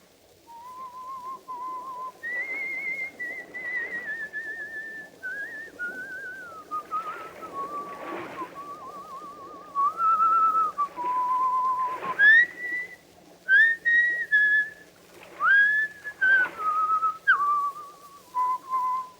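A man whistles the Scottish song Annie Laurie alone, a clear, melodic tune carried in sliding notes with short pauses between phrases, fairly close and steady.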